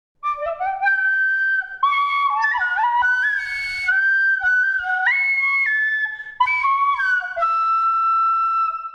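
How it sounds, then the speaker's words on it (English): A tin whistle plays the Star Wars opening theme deliberately badly, solo and close, with shrill wavering notes, uneven pitch slides and a few breathy gaps between phrases. "enjoy my rendition on my tin whistle, completely unrehearsed and played intentionally poorly"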